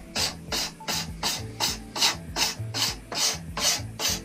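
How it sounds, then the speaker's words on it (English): A steel scraper shaves wood from a yew longbow stave in about ten even strokes, each a bright rasping scrape, close and steady, with no talking. "if I take some wood off with the scraper"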